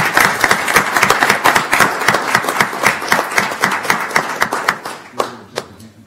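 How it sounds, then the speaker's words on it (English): A small group claps in a brisk burst of applause at a county commissioners court meeting, the claps thinning out into a few scattered last ones. "Round of applause, please."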